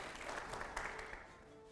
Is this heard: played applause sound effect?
yes